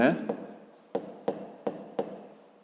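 A pen or pencil writes out a geometry solution for a fifth-grade maths exercise, giving a few short, distinct scratching strokes at an uneven pace in a quiet room.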